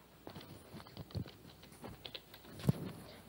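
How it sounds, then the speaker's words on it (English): Typing on a computer keyboard while entering records into an Excel database form, a quiet irregular run of close key clicks with one sharper tap near the end, no talk. "here I am typing the record in the various fields."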